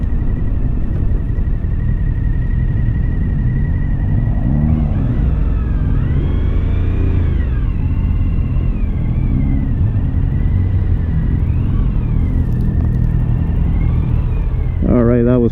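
Suzuki Hayabusa motorcycle heard on a ride, a loud continuous engine drone with rising and falling revs as it accelerates and shifts, steady wind and road rumble underneath.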